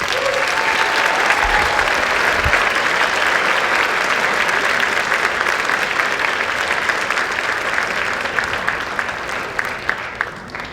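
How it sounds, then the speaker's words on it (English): Sustained, loud applause from a school audience at a National Honor Society induction ceremony, a dense steady wash of many hands clapping for about ten seconds that tapers only slightly at the end. "please join me once again in applauding all of our new National Honor Society members"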